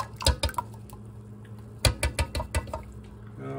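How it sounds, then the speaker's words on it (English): Canned corn and its liquid poured into a cooking pot for corn chowder, giving quiet splashes and sloshing drips in two short bursts, with a few metallic knocks against the pot. "so we're gonna put the corn in."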